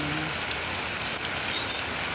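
Heavy rain from Typhoon Kristin pours steadily in front of a house in Ilocos, a dense, even hiss of water on surfaces with no pauses over a couple of seconds.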